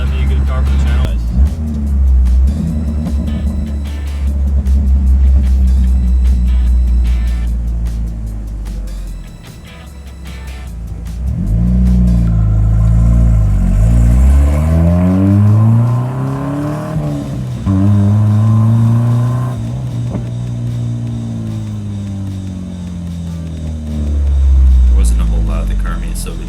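A straight-piped Dodge Dakota pickup revs and accelerates on a private lot at night, its exhaust rising and falling in repeated loud sweeps, with a person talking over parts of it.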